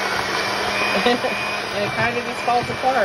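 An electric hand mixer whirs steadily while shredding cooked pot roast in a bowl, a loud continuous motor drone running under a person's close speech.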